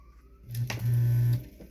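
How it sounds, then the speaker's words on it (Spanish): A greased electric fan from the brand Man, switched on after repair, starting with a click and then a loud, steady low motor hum that runs for about a second before cutting off, no talk. "ya engrasamos el ventilador, lo vamos a conectar"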